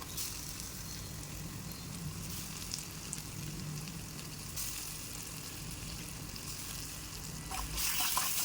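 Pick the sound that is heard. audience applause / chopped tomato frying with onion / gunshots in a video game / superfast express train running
chopped tomato frying with onion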